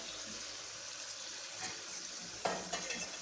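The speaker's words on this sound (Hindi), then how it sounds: "अभी ये लहसुन और अदरक का पेस्ट ये डालेंगे" Garlic and ginger paste sizzles as it is stirred into frying tomatoes for a fish curry, a faint steady crackle with light scraping and a sharper spatter near the end.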